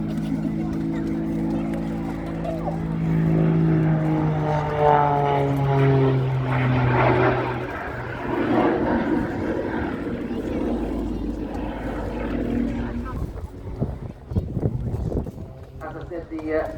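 Aircraft burning jet fuel performing an inverted flat turn at a Duxford summer airshow: a loud, sustained engine roar with sweeping pitch shifts as it turns close by, later rougher and fluctuating, while an announcer talks throughout.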